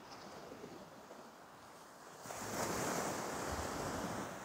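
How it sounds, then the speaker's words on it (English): Ocean waves wash steadily at sunset, a soft continuous surf that swells louder partway through and holds, with light wind across the microphone and no voices. "We'll just spend a couple of minutes together listening to the sound of the ocean together."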